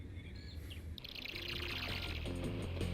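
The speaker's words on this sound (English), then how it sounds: "after listening to nothing but birds" Birds chirp and tweet in quick bursts in the video game Ape Escape, over a rushing, watery whoosh that swells and stays loud after the first second.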